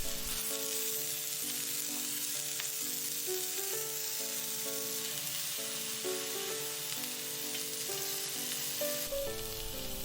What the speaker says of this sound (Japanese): ひっくり返しながら両面焼いて火を通します。